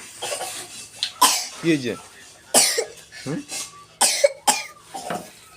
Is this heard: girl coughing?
yes